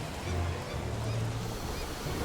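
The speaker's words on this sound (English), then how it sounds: "we can take one hit from the waves." Hurricane-season waves crash in the Shipwrecked video game, a steady dense wash of surf and rushing water holding at an even loudness throughout, with no talk over it.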